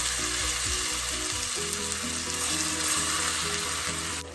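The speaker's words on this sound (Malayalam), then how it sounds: "ഇനി ചൂടായ എണ്ണയിലേക്ക് നമുക്ക് ചിക്കൻ പയ്യെ ഇട്ട് കൊടുക്കാം." Chicken pieces frying in hot oil in a pan, a steady dense sizzle with crackling bursts and low stirring clatter, close and continuous with no talk.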